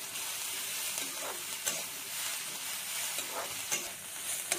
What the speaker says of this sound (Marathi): आलं लसूण आणि कोथिंबीर घालून घेऊया, तेही 1-2 मिनिटं परतून घ्यायचं आहे